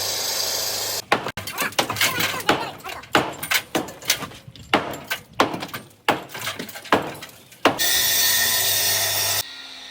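A power tool grinds steadily through clay roof tiles at a Kerala home construction site. A loud cutting whine opens and closes a run of sharp knocks and scrapes close by.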